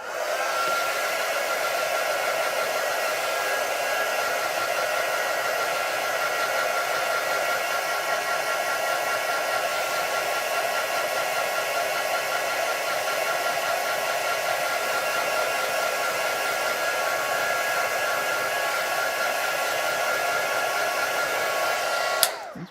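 A hair dryer drying a layer of craft paint, blowing as a steady, loud, even whoosh for about twenty-two seconds before cutting off abruptly with a faint click at the end.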